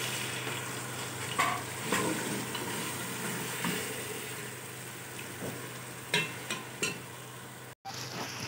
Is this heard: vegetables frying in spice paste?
yes